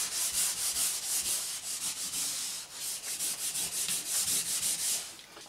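A sanding sponge rubs back and forth across a wall being cleaned of blackberry wine stains, a steady close scratchy hiss pulsing with each stroke, with no talking.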